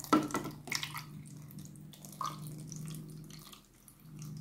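Water poured into a compressed seed-starting capsule, making soft trickling and dripping sounds close by over a low steady hum, with a brief splash at the start and gentle liquid movement throughout.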